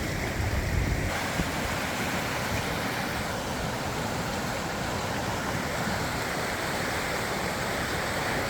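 A flooded creek in Livermore, California, swollen on New Year's Eve 2022, rushes past in a steady, unbroken roar that stays loud and even throughout, with no voices over it.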